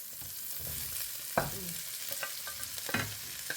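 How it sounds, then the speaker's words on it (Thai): Vegetables stir-fry in a pan before rice is added, with a soft sizzle under a few sharp scraping strokes of a utensil, close and fairly quiet. "จะผัดผักก่อนข้าวลงทีหลัง"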